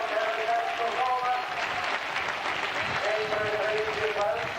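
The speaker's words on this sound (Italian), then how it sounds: "io direi di accompagnare ancora di più l'applauso per Alberto Cova" Stadium crowd applause at a 1988 European club athletics cup meet in Mogliano Veneto, steady distant clapping throughout with an announcer's voice running over it.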